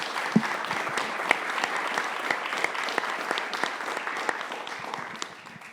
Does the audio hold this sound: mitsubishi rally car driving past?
no